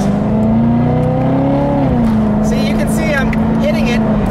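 A 2016 Corvette Z06 automatic convertible downshifting via paddle, its engine revving up sharply then settling to a steady loud drone, heard from inside the car with someone talking over it.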